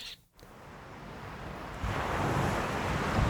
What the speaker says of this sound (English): Got an ocean there